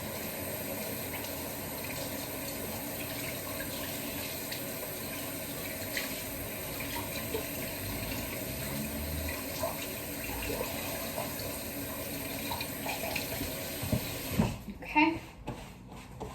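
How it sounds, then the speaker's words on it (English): Tap water runs steadily as hands are rinsed at a kitchen sink during home bread baking, a continuous hiss that ends in a few splashes and clatters near the end. "so just rinsed my hands"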